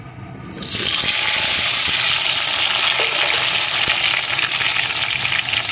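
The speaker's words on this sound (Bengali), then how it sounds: "কড়াইয়ে আমি একটু সর্ষের তেল বসিয়ে দিয়েছি তেলটা ভালো রকম গরম হয়ে গেছে এখন খোসা ছাড়িয়ে রাখা আলুগুলো এর ভিতরে দিয়ে দেবেন" Peeled potatoes drop into hot mustard oil in a kadai and burst into a loud, dense, continuous frying sizzle that sets in suddenly and holds steady, close by.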